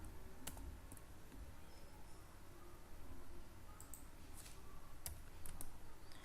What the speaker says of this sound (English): type the following code